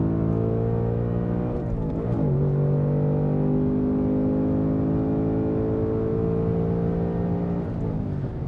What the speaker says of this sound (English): Second gear. We are clear. Bump the rev limiter right there.